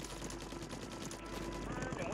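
Holger 556 rifle fire in Call of Duty on Rebirth Island: quick, rattling automatic bursts, fairly faint and steady throughout, with game sounds mixed in.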